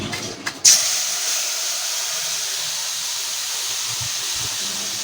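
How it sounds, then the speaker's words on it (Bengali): Tomato gravy poured into hot oil in a pan, starting with a few quiet taps and then a sudden loud burst of sizzling that settles into a steady, bright hiss for several seconds. "গরম তেলের মধ্যে আমরা এই গ্রেভিটাকে দিয়ে দেবো"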